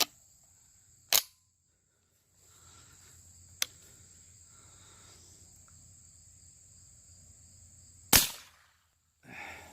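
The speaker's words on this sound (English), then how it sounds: "I'm going to shoot CCI on the CCI target on the right first" Sharp .22 LR shotshell reports from CCI and Federal bird-shot rounds fired at targets, three crisp cracks spaced apart, near and loud, over a quiet outdoor background with a steady insect buzz.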